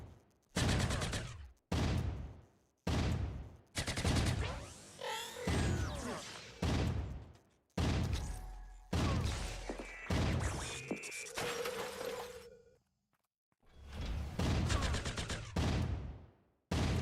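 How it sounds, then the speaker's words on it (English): Repeated heavy thumping rifle fire in the video game Entropia Universe, loud bursts of shots in rapid clusters separated by short pauses, with crashing impacts against robots in between. "We've got the big thumper out. We've got the thumping rifle."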